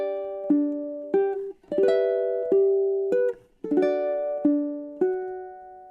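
Ukulele playing the B melody of Chopin's Nocturne Op. 9 No. 2, sustained plucked notes and barre chords ringing out one after another in a slow, lilting phrase, close and clear with no voice.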